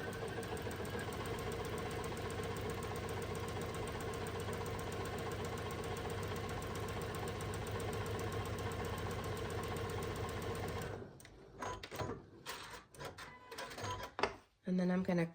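A sewing machine runs steadily along a quarter-inch seam on a quilt block, its rapid even stitching hum continuous and close, then it stops and gives way to light handling noises.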